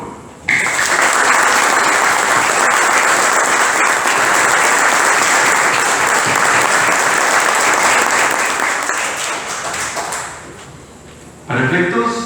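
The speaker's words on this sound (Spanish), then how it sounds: "Un aplauso, por favor." An audience at a commemorative tribute ceremony breaks into loud, sustained applause for about ten seconds, fading slightly near the end before a voice begins speaking.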